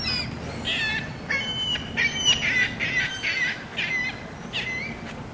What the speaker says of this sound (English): Some of our native birdies that will come crawling all over you if you have anything